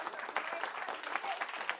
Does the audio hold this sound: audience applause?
yes